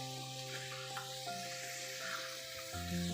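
Potato sticks for homemade french fries bubble in hot oil, a soft, steady sizzle heard faintly beneath a low background hum.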